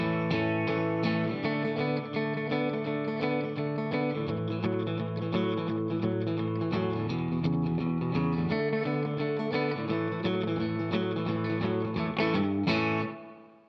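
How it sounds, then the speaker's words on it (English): Steady strummed guitar chords, slightly muted and chunky rather than ringing fully open, played continuously and alone before stopping abruptly at the end. "I am using just a slight palm mute there with my strum hand"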